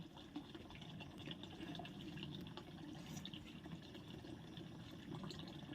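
Steady broadband water noise from a tap running outdoors while fish is being cut, a continuous rushing flow at even loudness throughout with no talk.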